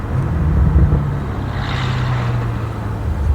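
BMW M5 F90 driving hard in sport mode, a deep steady engine drone close and loud inside the cabin with a brief rise in pitch midway, no talking over it.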